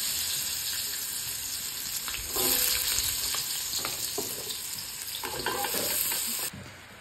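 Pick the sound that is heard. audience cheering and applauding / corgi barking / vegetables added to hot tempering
vegetables added to hot tempering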